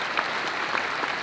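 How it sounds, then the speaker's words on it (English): A round of applause from an audience at a realtors' advocacy conference fills the hall, steady and moderately distant, with a few sharper claps standing out. "the Realtor Party traveling team deserves another round of applause"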